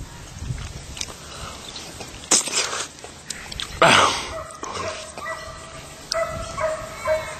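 A dog barks and yips a few times nearby, with whimpering sounds and some shuffling in between.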